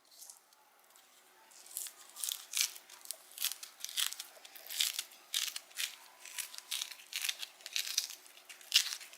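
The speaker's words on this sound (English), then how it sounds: "These mandarin oranges seriously peel so easy." Mandarin orange peel is pulled away by hand in a quick string of soft tearing, crackling bursts, close and fairly quiet, with no talking.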